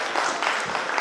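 An audience at La Dofteana, a Romanian festival of customs and traditions, gives a brief burst of dense, fairly close clapping that lasts about a second.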